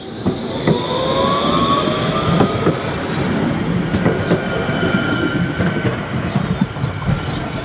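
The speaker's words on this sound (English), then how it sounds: "You now can't cross here because there's a tram there." A tram rolls past close by on a city track, a loud continuous rumble with rhythmic wheel clatter and thin metallic squeals drifting up and down over several seconds.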